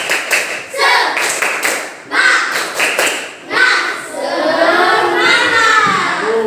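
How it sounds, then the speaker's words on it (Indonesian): A group of schoolchildren claps in bursts while chanting loudly together in a classroom, the rhythm breaking into shouted voices toward the end. "Kita tepuk semangat dulu ya"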